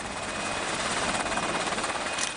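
A Seahawk military helicopter operating from the warship HMAS Hobart over the Yellow Sea gives a steady, loud rotor and engine drone that stays constant throughout, with no one speaking.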